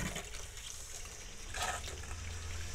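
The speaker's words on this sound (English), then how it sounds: "So we're going to turn on the cold water now." Cold water runs through an RV's plumbing line during dewinterizing, a steady trickling rush with a brief surge partway through, close by and without speech.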